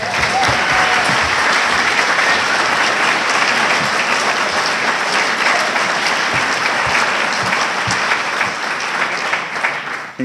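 A breakfast crowd in Pleasant Hill claps for the mayor, a full, loud burst of applause that holds steady and begins to thin only in the final seconds.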